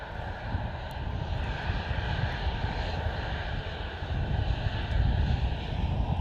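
A Jetstar airliner on arrival, heard as a steady, broad engine roar from some distance that swells slightly louder toward the end, with no voices.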